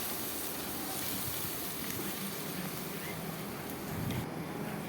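Masala sizzling in a pan with chicken powder added, a steady frying hiss throughout, moderately faint, while cooking mash ki daal.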